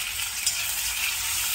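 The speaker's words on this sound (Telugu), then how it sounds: "ఇక నల్లేరు వేయిద్దాం." Nalleru (veld grape) pieces frying in hot tempering oil for a chutney, a steady bright sizzle that holds evenly close to the pan, with no talking.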